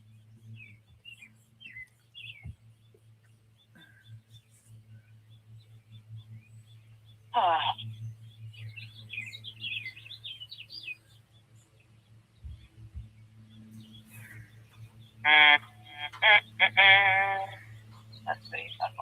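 Pet birds chirp in an indoor room in short, bright, high bursts, loudest near the middle and the end. A steady low hum runs beneath, and no one speaks during the clip.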